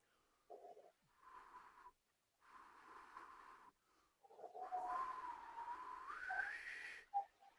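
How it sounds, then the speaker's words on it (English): Breathy, airy whistling blown across a finger pressed against the lips as a brass warm-up exercise, coming in several faint, wheezy bursts with short gaps and a slightly stronger rising passage near the end. "And you can hear how it's a little bit harder to whistle it."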